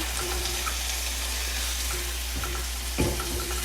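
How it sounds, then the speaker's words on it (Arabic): Chopped tomatoes fry and sizzle in a pan with pepper paste for a chicken and red kidney bean dish, under a steady broadband hiss, with a clattering stir near three seconds. "اقلب، بعد كده احط طماطم"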